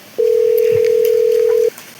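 A single steady telephone tone sounds loud and clean for about a second and a half as a phone call is placed, with faint background noise before and after.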